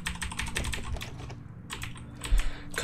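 Rapid keyboard typing during hacking in a Ghostbusters video game, a dense run of close, crisp keystrokes that thins briefly midway before resuming steadily, with no voices.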